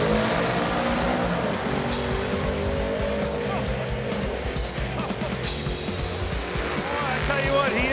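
A 1980 Chevy El Camino launches and races down a drag strip, its loud engine roaring steadily with tire noise throughout, under an announcer's voice and crowd commentary.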